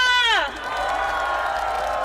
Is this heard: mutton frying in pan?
no